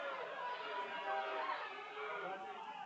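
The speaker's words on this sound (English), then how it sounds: "Home crowd letting the home plate umpire Jacob Cackett hear it" A home crowd at an Evansville Otters vs Mississippi Mud Monsters baseball game reacts to the home plate umpire's call with a faint, distant, steady roar of jeers and murmur that lasts the whole moment.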